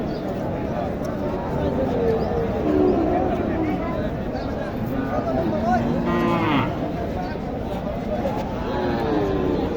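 A bull calf of Nepali or Sahiwal breed moos repeatedly amid a noisy crowd, its calls rising over steady background chatter.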